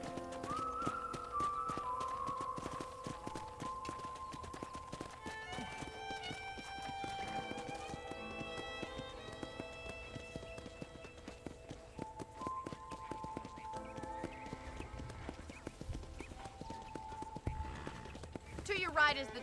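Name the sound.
horse hooves trotting, from a video game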